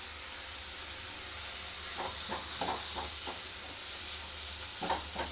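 Mushrooms frying in a pan for a soup premix, giving a steady close sizzle and hiss with a few soft scraping stirs partway through, no talking.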